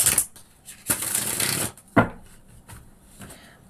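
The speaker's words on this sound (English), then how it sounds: "Give these a shuffle too." Quick riffling bursts of cards being shuffled by hand, several short papery flurries separated by brief pauses, close and fairly quiet.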